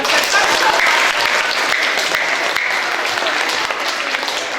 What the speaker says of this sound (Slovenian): Dajte ima en velik aplavz